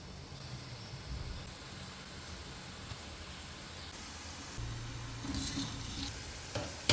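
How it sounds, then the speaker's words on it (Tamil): Kaarasev dough deep-frying in hot oil for a homemade Diwali snack, a steady broadband sizzle and hiss with faint bubbling, fairly close and continuous, swelling slightly near the end. "எண்ணெயில் உள்ள சலசலப்பெல்லாம் கொஞ்சம் கொஞ்சமாக குறைஞ்சிட்டு வருது"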